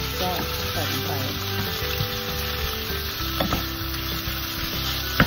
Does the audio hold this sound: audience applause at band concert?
no